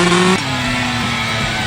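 A motorcycle engine from an iPad racing video game whines at a steady high pitch, dropping sharply in tone partway through and then droning on evenly.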